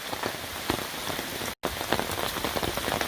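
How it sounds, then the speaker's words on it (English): Heavy rain pours onto a wooded hiking trail in Umstead State Park near Raleigh, North Carolina, a dense, steady hiss of drops pattering on leaves and ground, broken by one brief silent gap. "It is really raining."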